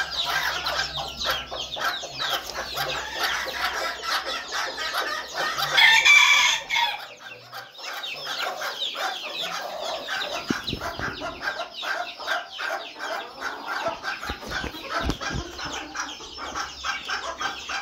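Hens, including a plump black one, cluck busily alongside a rooster in a backyard flock, a dense, continuous chatter of clucks with a louder crow-like burst partway through.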